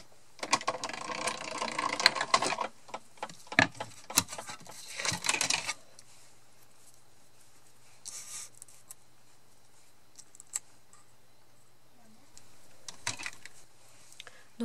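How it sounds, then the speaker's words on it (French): A die-cutting machine runs a peel-off sheet through for a horse-themed birthday card, giving a burst of grinding, ratcheting mechanical noise followed by scattered clicks and light handling sounds in a quiet room. "je vais la passer dans ma machine de découpe en mettant les dies"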